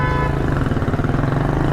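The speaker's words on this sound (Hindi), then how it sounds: "मुझे पीछे से हॉर्न दिया जा रहा है कि मैं आगे बढ़ूँ।" A loud, sustained car horn blares close from behind over the rumble of engines and traffic on a Karachi street.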